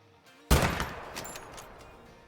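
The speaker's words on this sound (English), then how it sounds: "I just took a shot at another nice muley buck out here at about 200 yards out" A single loud rifle shot fired at a mule deer buck about 200 yards away in the hunting game Call of the Wild, a sharp crack followed by a rolling echo that fades over about two seconds.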